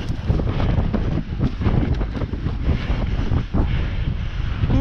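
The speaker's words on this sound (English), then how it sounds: "it's a bit windy." Strong wind buffets the microphone on the exposed headland at Cape Spear, Newfoundland, a loud continuous roar with gusty swells and no speech.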